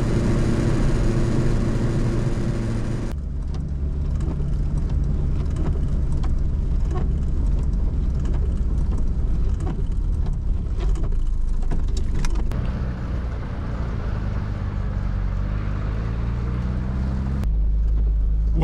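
A 1966 Hillman Imp Super with its small 875 engine driving on a wet motorway, steady engine and road drone heard from inside the car, continuous and fairly loud with shifting pitch as it climbs and changes gear.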